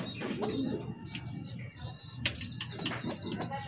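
Young racing pigeons coo and flutter close by, with soft repeated calls, wing flaps and scattered chirps over a busy background hum.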